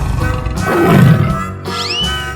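A tiger in a 3D animal video game lets out a loud, close, rumbling roar that swells and fades over about two seconds, with a short squeaky call near the end and no talking.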